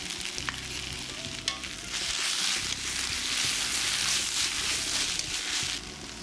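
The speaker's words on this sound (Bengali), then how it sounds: "পাঁচ মিনিট ভাজা ভাজা করবে" Steady sizzling and crackling of onion with ginger-garlic and green chilli paste frying in a hot pan, close and continuous, with faint stirring clatter.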